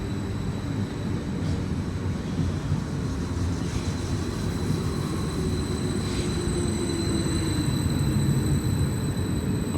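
A passenger train rolling into a station near Ipswich, a loud continuous rumble and wheel noise filling the platform, slowing steadily with no talk.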